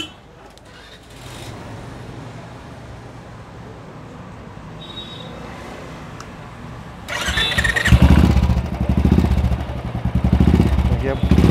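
A Royal Enfield motorcycle with a freshly packed silencer starts after a quiet idle-like stretch, then the engine catches and runs loud and close with rough, pulsing throttle revs and no talking over it.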